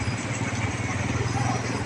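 At Roxas Port at night, motorcycles are loaded onto the ship Stella Del Mar under a loud, steady engine drone with a deep, unbroken hum.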